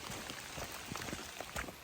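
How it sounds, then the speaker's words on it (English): Rain falls steadily on the Appalachian Trail near Groundhog Creek shelter, a soft continuous patter with scattered close drops, fairly faint. "Still raining."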